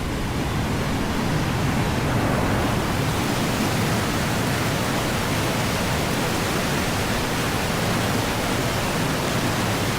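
A river rushing hard with high water, a dense, loud, continuous roar of flowing current with no voices and no breaks.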